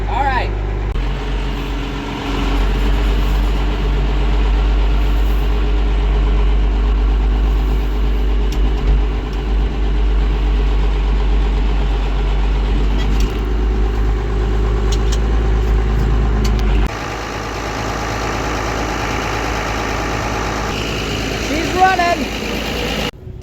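A Ford TW20 tractor engine idles just after starting, a loud, steady low rumble that runs unbroken for most of the clip and shifts slightly in tone near the end.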